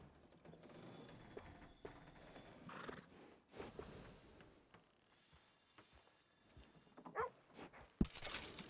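A horse whinnies in Red Dead Redemption 2, rising out of soft hoof clops and ratcheting, mechanical grooming clicks, with a bright burst of noise near the end; quiet overall and no talking.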